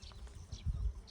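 Honeybees droning around the hives at an apiary in Iraq, a low, fairly quiet buzzing hum that swells slightly midway through the short stretch, with no talking.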